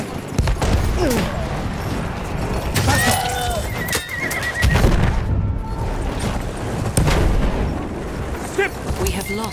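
Horses whinny loudly and repeatedly over clattering hooves, with distant booms and voices shouting in the background.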